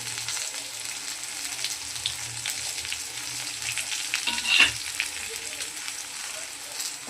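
Vegetables sizzle steadily in a pan for shukto, with a short louder burst as a spice mix is added, then continued even frying.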